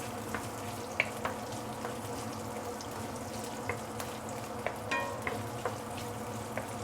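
Pork fat sizzles in a pan while noodles fry, making a steady crackling hiss with occasional sharp pops and light stirring clinks, with no voices.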